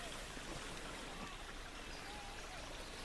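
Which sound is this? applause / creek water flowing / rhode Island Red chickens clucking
creek water flowing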